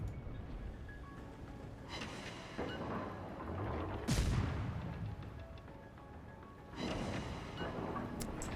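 Naval gunfire and shell hits from the World of Warships game, heavy booming salvos over a constant rumbling battle din, with a loud impact near the middle and another burst of firing toward the end.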